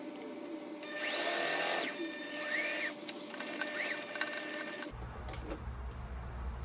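A sewing machine running an overlocking stitch on fabric for a pajama set hums steadily at moderate level, its motor whine shifting pitch, with a lower rumbling change partway through.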